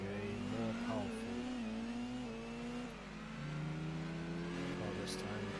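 A sports car engine in Gran Turismo 2 climbs in pitch as it accelerates through the gears on the Seattle City Course, steady and moderately loud throughout, with a brief dip at a gear change.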